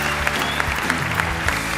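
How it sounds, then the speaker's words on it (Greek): Audience applause on a Greek televised talent show, a dense steady clapping from a studio crowd, loud and close, with faint speech underneath. "δώστε το χειροκρότημα του Άγιο Αθανάσιο"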